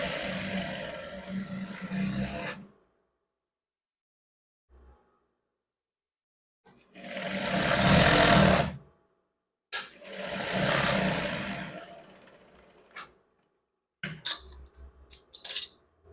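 Domestic sewing machine stitching the center back seam of a women's scrub top, heard in several close bursts of whirring stitching separated by silent pauses, with short clicks and handling noise toward the end.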